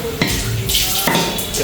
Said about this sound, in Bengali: একটু ভালোভাবে নাড়িয়ে নিচ্ছি